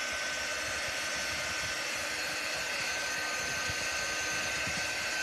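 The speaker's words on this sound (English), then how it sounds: "This is called a heat tool. It's not really, really hot, but it does blow." A heat tool blows air to dry ink on a t-shirt, giving a loud, steady, close-up whooshing fan roar with a faint motor whine that holds constant throughout.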